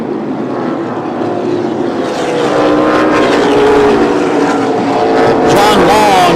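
Race cars at the Columbus track, with a loud, continuous engine roar that swells as cars pass and one spins coming out of turn four. An announcer talks over the noise throughout.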